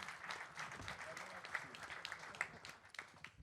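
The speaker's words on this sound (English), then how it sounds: "Give him a big round of applause." Applause at a kickboxing pre-fight press conference as a light heavyweight fighter is introduced, quiet distant clapping from the room with a voice speaking over it.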